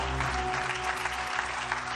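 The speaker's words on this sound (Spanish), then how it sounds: "Si le van el aplauso a Dios, déselo con todas sus ganas" Congregation applauding during a church sermon, steady broadband clapping held at a constant level for the whole stretch, with a low droning hum beneath it.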